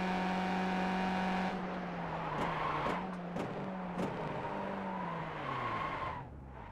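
A race car in iRacing skids under braking, its tires squealing in a steady whine over the droning engine, punctuated by several sharp clicks, before fading out near the end.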